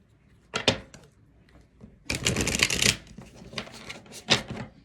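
Cards from a love message oracle deck being shuffled in bursts of crisp riffling and flicking, with a long dense riffle in the middle, close and fairly quiet in a calm room.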